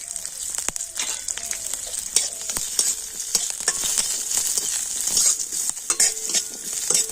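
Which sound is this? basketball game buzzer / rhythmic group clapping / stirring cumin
stirring cumin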